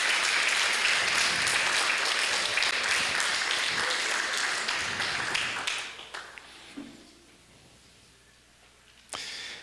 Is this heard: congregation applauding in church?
yes